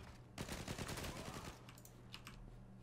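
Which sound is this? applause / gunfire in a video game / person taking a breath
gunfire in a video game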